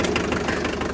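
A tractor engine idles steadily during hay harvest, a continuous mid-pitched rumble with a slight knocking rhythm, close and alone without talk.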